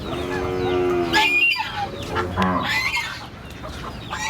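Several country chickens of the Siruvidai and Idavetti breeds cluck and squawk close by on a Tamil Nadu dairy farm in an irregular, overlapping chorus of short calls.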